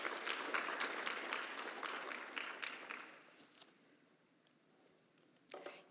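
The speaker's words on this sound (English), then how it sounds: "another round of applause" Audience clapping fills the first few seconds, then fades out into quiet before a brief burst of noise at the end.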